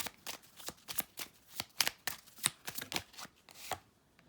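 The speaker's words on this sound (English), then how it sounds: "I'm going to shuffle the cards and lay them" Tarot cards shuffled by hand in quick, irregular riffling bursts, close and crisp, with no talking.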